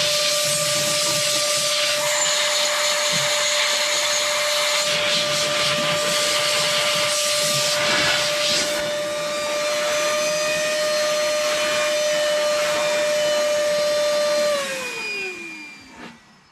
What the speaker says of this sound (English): So this is my Meco Eleverde air duster or blower.